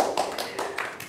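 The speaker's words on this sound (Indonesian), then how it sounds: "Sekali lagi tepuk tangan buat review makanan aneh." A short run of about half a dozen sharp handclaps from a small studio group on an Indonesian talk show, spaced a beat apart and fairly close.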